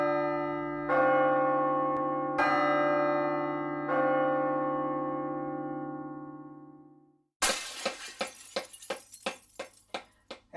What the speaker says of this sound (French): Les cloches du Seigneur